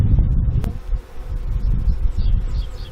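A steady, close buzzing of honey bees being moved to a new home, with soft rustling, continuous through the clip with no voices.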